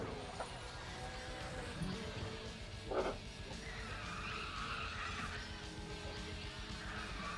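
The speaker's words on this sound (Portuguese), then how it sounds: "Fazer um drift aqui, ó" Car drifting with skidding tyres in the racing game Need for Speed The Run, set in Las Vegas: a steady engine roar with tyre squeal swelling around the three-second mark, amid continuous game noise, with no voices.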